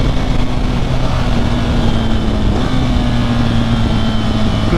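A 2024 BMW R 1300 GS motorcycle engine drones loudly and steadily on test, a continuous close engine roar with a slight shift in pitch partway through as it downshifts.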